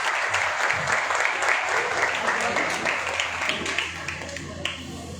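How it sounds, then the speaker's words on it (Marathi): Loud, steady applause from an audience honouring a student's SSC exam results at a Maharashtra coaching class in Barshi, dense clapping running unbroken for the whole stretch. "त्यासाठी तिथे जोरदार टाळ्या वाजवा"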